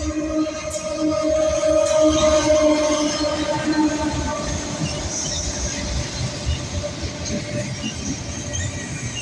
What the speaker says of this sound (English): the second train was 266 eastbound with a very rare H2 duo